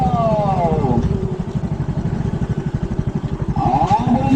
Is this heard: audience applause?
no